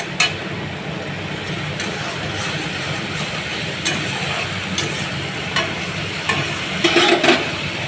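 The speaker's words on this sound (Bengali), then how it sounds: "ডালটাই পাশে ফুটছে আর এই পাশে মশলাটা কষাচ্ছি" Spices fry and sizzle in a pan while dal boils beside it. A steady frying hiss runs throughout, with occasional sharp scrapes of stirring that grow busier toward the end.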